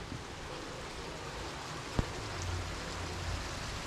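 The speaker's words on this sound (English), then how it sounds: "It is raining." Steady soft hiss of rain falling at Lake Chapala, Mexico, faint and even throughout, with a single brief tap near the middle.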